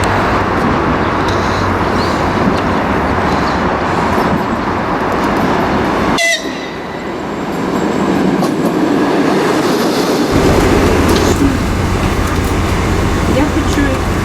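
A train rolls past on the rails, a loud, continuous rumble and rush that shifts in tone partway through and keeps going without a break.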